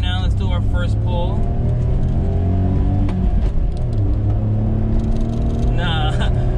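A small kei vehicle, a Honda Acty or Suzuki Wagon R, accelerates hard in second gear. The engine drone climbs steadily in pitch, loud and close from inside the cab, with someone speaking over it.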